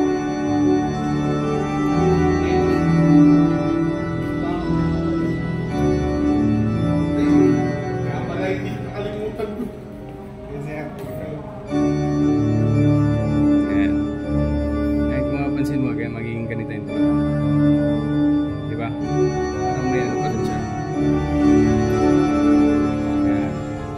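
Yamaha BLC-02 electronic organ using a pipe organ preset layered with strings, playing a sustained full-bodied chordal passage with bass for about twenty seconds, close and fairly loud, with a brief dip midway.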